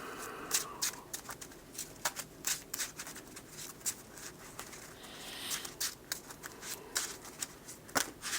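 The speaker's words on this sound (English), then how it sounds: "What is up with my sloppy shuffling today?" A deck of game cards is shuffled by hand in a somewhat sloppy way during a solo Spider-Ham versus Mysterio playthrough, giving repeated quick riffling and flicking bursts, close and fairly quiet.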